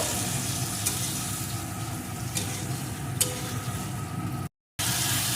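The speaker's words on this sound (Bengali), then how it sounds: "যে মাছ সবজি একসাথে হাত দিয়ে মাখিয়ে রেখেছিলাম সেটাকে একসাথে এর ভিতরে দিয়ে দেবো দিয়ে একটু নাড়িয়ে নেব" Fish pieces and snake gourd, mixed together by hand, being stirred in a hot pan: a steady close sizzle with occasional scraping strokes and a brief cut near the end.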